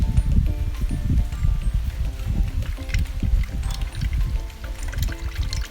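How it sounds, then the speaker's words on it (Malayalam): Ghee poured into a hot clay pot over a wood fire while preparing chicken dum biryani, a steady close pouring and crackling texture lasting several seconds, with no speech. "ഇനി നമുക്ക് കുറച്ച് നെയ്യ് ഒഴിക്കാം"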